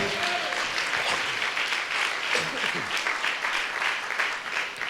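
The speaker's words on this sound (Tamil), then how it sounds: "ஆண்டவருக்கு நல்ல ஒரு கைத்தட்டு கொடுக்கலாமா?" A church congregation giving warm applause to the Lord during a Tamil sermon, continuous clapping for about five seconds with a voice briefly audible near the start.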